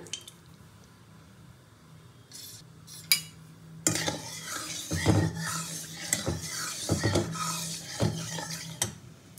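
Whole garam masala spices crackle and spit in hot oil for chicken biryani, with stirring clatter and metal clinks from a pan, loud bursts after a quieter start.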